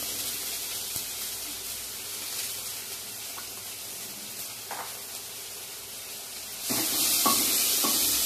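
Mustard seeds with a pinch of salt fry in a pan for a home-style Assamese dish, giving off a faint, steady sizzle with scattered pops before a louder hissing burst near the end.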